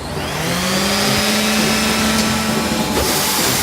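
An eccentric orbital sander on wood runs steadily and loudly close by, a continuous dense whirring drone with a faint shifting tone, no voices.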